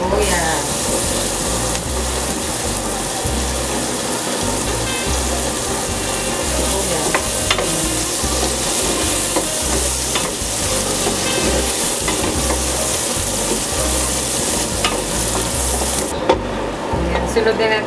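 Garlic and onion fry with bacon in butter for spaghetti carbonara, a loud, steady, close sizzle with rhythmic stirring scrapes that runs almost unbroken the whole way through.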